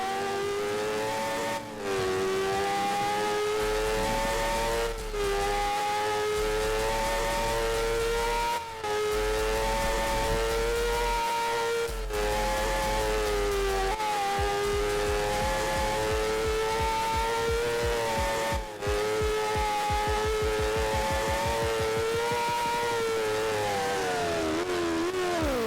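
The Kowalski Samurai performance motorcycle engine in Roblox revs hard and climbs through several gears, with its whine rising and dropping at each shift. It is loud, close and sustained, with brief dips between gears.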